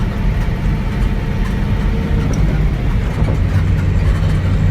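A Nissan S13 with a 1UZ V8 runs loud and close, its engine roar broad and continuous while gears change smoothly without grinding.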